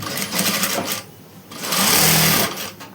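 A sewing machine runs across umbrella frock fabric in two bursts of rapid stitching, loud and close, with a brief pause between and a longer, steadier run toward the end.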